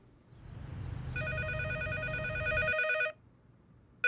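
A telephone rings with an electronic trill, one long burst after a rising whoosh and the start of another just after a short pause, loud and close with no talk.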